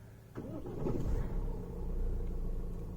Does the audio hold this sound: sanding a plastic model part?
no